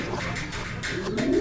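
Racing pigeons in a fancier's loft in Cabiao, Nueva Ecija, cooing softly in low, throaty, repeated burbles that overlap in a continuous close murmur.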